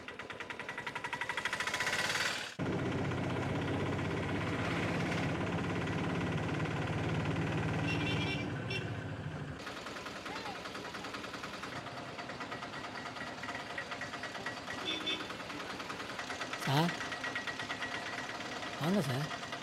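A vehicle engine runs with a steady, rough mechanical chugging that drops off partway through, while people talk and street sounds continue around it.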